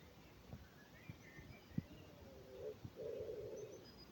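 Birds sing and coo outdoors, with soft low coos and short chirps and whistles at moderate distance, alongside a few faint taps, with no talking.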